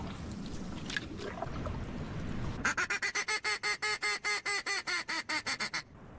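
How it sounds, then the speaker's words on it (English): A diving duck on a river gives a quick run of about a dozen sharp, evenly spaced quacks, close and loud, after a few seconds of rough outdoor background noise. "He's some sort of diving duck, and those usually don't taste as good as mallards"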